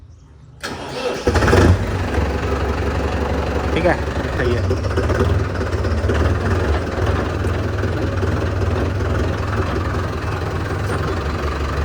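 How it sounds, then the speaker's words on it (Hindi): Mahindra Arjun Novo 605 tractor engine cranking and catching after a quiet moment, then settling into a steady, loud diesel idle close by, with a few brief words spoken over it. "ट्रैक्टर चालू करते हैं।"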